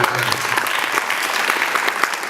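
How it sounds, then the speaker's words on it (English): Steady applause from a crowd at a high school event, dense overlapping claps filling the whole stretch at a fairly loud, even level. "Let's clap for this kid one more time."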